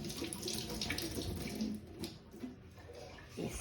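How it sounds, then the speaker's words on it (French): Running water from a kitchen sink tap as a potato is washed under it, a steady close splashing hiss with slight shifts as the potato moves through the stream. "Donc je vais laver ma pomme de terre."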